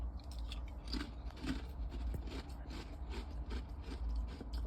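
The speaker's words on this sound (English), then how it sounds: "You can hear me crunching." Close crunching and chewing while eating food cooked on the road by a trucker, with irregular crisp bites and mouth sounds over a steady low engine-like hum.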